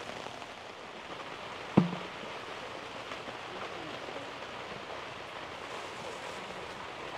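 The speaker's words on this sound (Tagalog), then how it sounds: "sa lakas ng ulan." Heavy rain falls steadily around a Suzuki Jimny during car camping at a resort, a constant broadband hiss with one sharp nearby knock early on and no talk.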